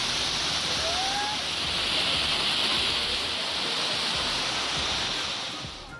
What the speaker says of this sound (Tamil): 40 அடி உயரத்திலிருந்து கொட்டும் அருவியில் குடும்பத்தினரோடு குளித்து மகிழ்ந்தனர்